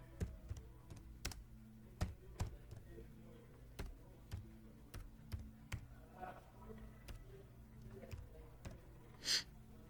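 A computer keyboard is tapped while an email subject line is typed in Gmail on a desktop, giving quiet, irregular, close-up keystroke clicks with short pauses between bursts.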